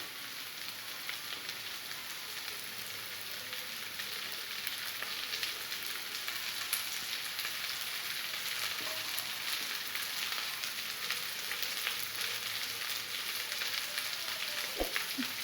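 Bottle gourd frying in a pan for a peanut poriyal gives off a steady, hissing sizzle that holds constant throughout with no talk.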